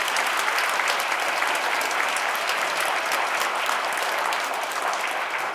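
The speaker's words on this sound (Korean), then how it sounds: "여러분 다시 한번 큰 박수 부탁드리겠습니다" Steady, dense applause from a church audience in a parish sanctuary after a live music performance at a book concert, a full crowd clapping continuously and loudly throughout.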